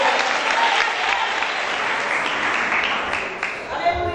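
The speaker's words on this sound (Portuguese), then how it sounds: "Desocupe a tua mão e aplaude o Senhor bem forte." A church congregation applauds loudly during a service, a dense continuous roar of clapping hands that fills the space and fades slightly near the end, heard up close.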